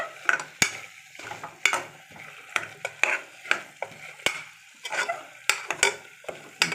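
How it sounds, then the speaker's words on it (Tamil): Vegetables sauté with spices such as chili powder and biryani masala in hot oil, a crackling sizzle broken by frequent sharp clinks and scrapes of a spoon stirring against the pan, close and fairly loud. "நல்லா ஒரு 2 நிமிஷம் வதக்கிட்டு"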